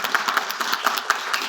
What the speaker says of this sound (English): if you can give them an applause